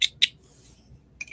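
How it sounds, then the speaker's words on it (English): Scissors snip off excess crochet yarn: two quick, crisp close cuts in succession, then a pause and a third fainter snip near the end. "Just enough to sew in the ends and cut off the excess"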